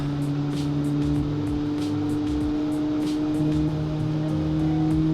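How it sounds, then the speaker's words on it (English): Engine from a 1966 Gasmea car in the Automation car game revving steadily under load, a constant droning hum with a mechanical whine throughout. "Rev that little engine up."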